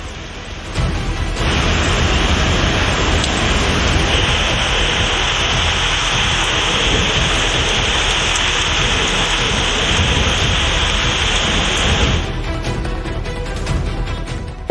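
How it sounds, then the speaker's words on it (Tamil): Heavy rain from Cyclone Fengal pours down in Ranipet district, Tamil Nadu, a dense, steady hiss of downpour that holds constant for most of the stretch with no voices over it. "ராணிப்பேட்டை மாவட்டத்தில் 2வது நாளாக கனமழை பெய்தது"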